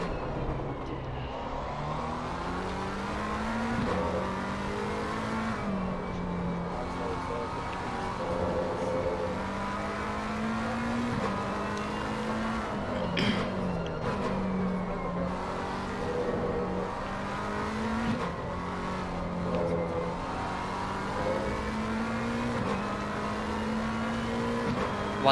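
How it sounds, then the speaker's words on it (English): A red and black McLaren race car in a racing sim, its engine roaring down the Nurburgring start-finish straight, a sustained whining drone rising through repeated gear shifts, steady and prominent with no talk. "Listen to the noise of that red and black McLaren as it shoots down the start finish straight of the Nurburgring"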